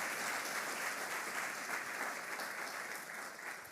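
A church congregation applauds together, dense, even clapping that holds steady and then gradually tapers off toward the end.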